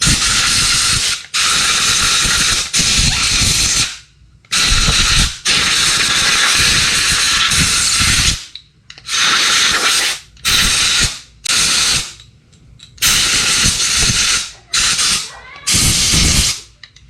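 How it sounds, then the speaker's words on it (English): Compressed air blasts in repeated hissing bursts of varying length, separated by short pauses, as it blows out the stuck blower fan from a 2014-2015 Nissan Rogue, loud and close with no talking. "So compressed air, blow everything out, clean it, reassemble."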